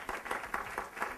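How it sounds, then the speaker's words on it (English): Audience applause at a mental health talk at Rutgers, a fairly quiet, brief burst of rhythmic clapping with evenly spaced claps. "give them a round of applause"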